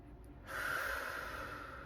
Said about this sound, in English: We're going to do one more cleansing breath.